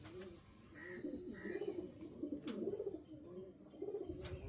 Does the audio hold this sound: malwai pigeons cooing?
yes